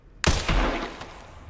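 A gunshot in a zombie shooting video game, a sharp loud blast followed by a second report and a decaying rumble, alone without talk.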